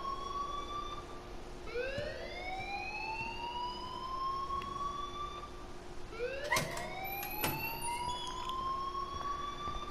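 A school alarm wails in the video game Life is Strange, a loud rising-and-falling siren tone repeating in long sweeps over a steady background hum, with a sharp clatter partway through.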